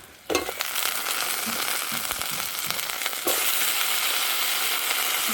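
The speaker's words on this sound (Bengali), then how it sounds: "এবার একে একে কচু আলুগুলো তেলে ভেজে নেব" Pieces of taro and potato frying in hot oil in a home kitchen, a loud continuous crackling sizzle that jumps in intensity when more pieces drop in, with a few spatula scrapes.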